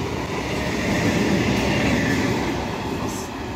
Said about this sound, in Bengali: বিকেল হয়ে গেছে তাও ট্রেনটা কিন্তু দাঁড়ালো না